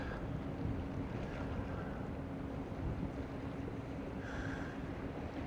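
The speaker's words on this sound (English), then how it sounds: "We've got a hell of a boat coming down here." A low, steady engine drone from a large ship passing on the River Mersey hums in the distance, mixed with soft wind rumble and faint water noise.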